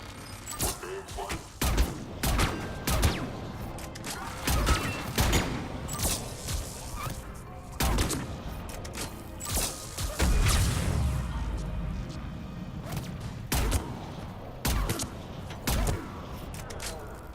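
Gunfire aimed at a turret in the video game Mass Effect 3, with repeated sharp bursts and impacts crackling throughout over a busy combat mix, with talk during the fight.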